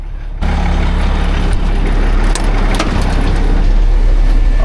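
A truck engine idling after warming up for about an hour at a pole barn trenching site; a loud, steady low rumble with a constant drone and no speech.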